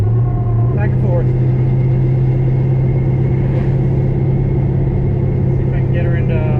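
A 1000 rear-wheel-horsepower drag car with 355 gears cruises in fifth gear, its engine a steady, loud, low drone heard from inside the car, with voices talking over it.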